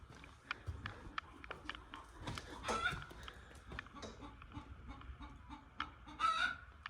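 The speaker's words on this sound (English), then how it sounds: "That chicken's going crazy." Nearby chickens cluck excitedly in irregular bursts with a rooster-like squawk, set against faint shop noises and clatter, with some quiet background talk.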